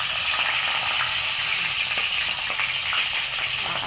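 Leftover food reheating in a frying pan makes a loud, dense, continuous sizzle with crackling spits throughout, close by and with no one speaking.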